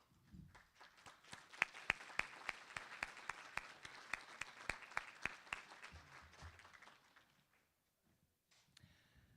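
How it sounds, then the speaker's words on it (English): Applause at a Kansas Press Association gathering for standing staff members and consultants: a modest room of claps with a few sharp, close single hand claps standing out, building and then tapering off to quiet. "let's give them a round of applause"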